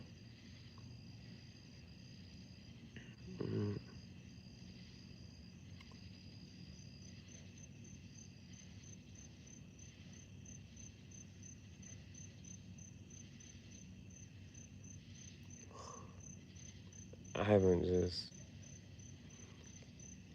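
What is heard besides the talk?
crickets chirping at night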